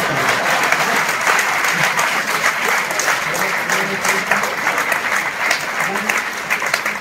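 Spectators at a Hindi comic poetry gathering break into sustained applause, a loud, thick wash of many hands clapping steadily, with a faint murmur of voices beneath.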